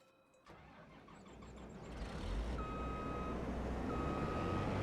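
A truck in Farming Simulator 25 starts up, its engine rising into a steady mid-pitched rumble, while a thin electronic reversing beep sounds in two long tones. It is close and grows steadily louder, with no talking.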